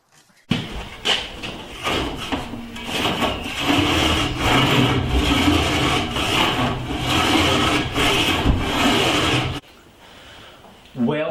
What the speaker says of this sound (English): this rather mental contraption is actually the best tool I have at the moment for sawing the kerf in this rib